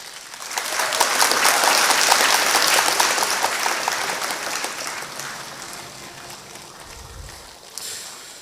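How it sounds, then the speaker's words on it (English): An audience rises to give the governor a round of applause at a Delta State security trust fund event: dense, loud clapping builds quickly, holds, then thins and fades away toward the end. "stand up, acknowledge the work of this governor, and give him a round of applause"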